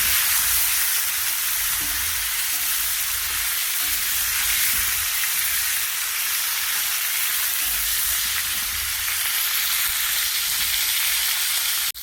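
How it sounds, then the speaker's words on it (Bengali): Cauliflower fries with turmeric in a pan, a loud, steady close sizzle with occasional stirring, continuing unbroken without speech. "কপিটাকে লাল লাল ভাজা হয়ে গেছে"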